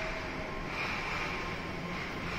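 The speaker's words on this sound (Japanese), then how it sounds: "中央線のカラーみたいな緑の列車がやってきました。" A green 200 series train on an Osaka new-transit subway line pulls into the station, a steady broadband rumble and hiss of wheels and motors filling the platform without pause.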